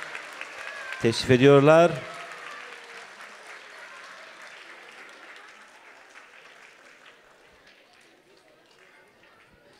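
Applause at a school special-needs children's concert as the conductor is welcomed on stage: a short loud burst of clapping about a second in, then a softer, fading patter of audience sound under a speaking voice.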